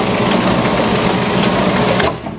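An offset printing press runs steadily, loud and close, with a dense mechanical clatter that cuts off just before the end.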